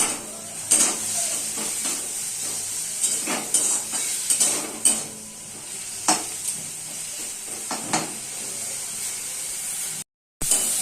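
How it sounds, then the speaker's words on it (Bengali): Koraishaak greens sizzling and frying in a pan, with a steady hiss broken by repeated scrapes and clinks of stirring. "একটু ভালো করে আমি শাকটাকে ভেজে নেব"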